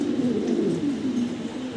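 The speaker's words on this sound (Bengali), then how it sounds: "পাশে এই যে নর ডাকতেছে, ওই নরের ডাকে সাড়া দিচ্ছে" Male fancy pigeon calling, a close, low, throaty coo rolling continuously through the moment.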